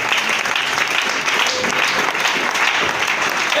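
A church congregation applauding during a sermon: sustained, dense clapping from many hands, loud and steady throughout, with no distinct voices above it.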